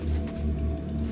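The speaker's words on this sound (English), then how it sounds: "All the ambient sounds are cool, I guess. They're nice. You can hear dripping." Ambient water dripping in an Oblivion video game mod, soft steady drips over a low hum of background ambience.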